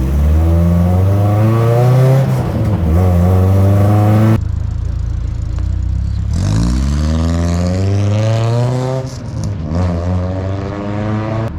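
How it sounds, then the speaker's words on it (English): A loud endurance race car engine close by, revving and falling in pitch, easing off briefly, then climbing again as it pulls away and accelerates. "This is the first time that it's moving under its own power in over a year."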